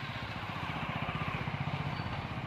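A motorcycle engine chugs nearby with a fast pulsing beat during a strong storm in Rajasthan, holding steady throughout without any speech.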